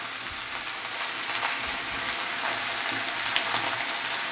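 Eggplant frying in fish oil in a pan, a steady broadband sizzle with soft scraping stirs running throughout, close and even, with no talking.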